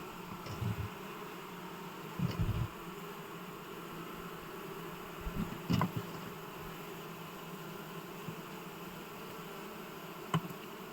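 Honeybees buzzing in an opened hive, a faint, steady hum broken by a few louder close buzzes as single bees pass near, with no voices.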